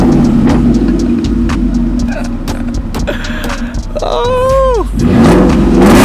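A Ford F150 pickup with a Borla Atak exhaust and SPD catted Y-pipe rumbles and revs up loudly near the listener, and a person briefly exclaims over the engine.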